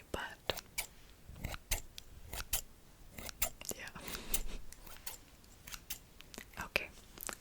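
Old scissors snip in a scratchy, dry series of sharp, repeated cuts up close, each snip quick and crisp, with soft whispering drifting between them.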